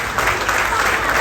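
An audience at a stand-up comedy show claps loudly and steadily, a continuous wash of hands with no break.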